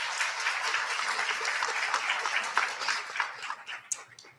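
Audience applause at a health sciences and nursing pinning ceremony: dense, sustained clapping from a crowd that stays steady for several seconds, then thins into scattered claps and fades near the end.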